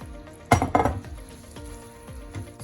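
Cashews tipped into one-thread sugar syrup in a pan for kaju katli, with a sudden loud burst of bubbling sizzle, then a few soft scrapes and clinks from stirring.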